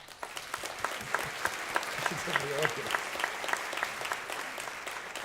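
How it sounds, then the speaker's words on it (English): Audience applause at a nursing leadership event, a steady ripple of clapping running throughout while a voice briefly speaks over it. "Can we have a round of applause?"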